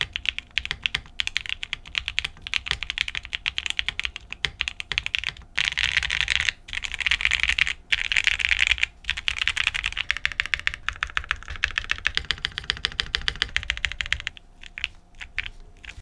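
Steady, rapid clacking of a Sunset80 mechanical keyboard with a bottom case Poron sheet being typed on up close, with short pauses between bursts of keystrokes.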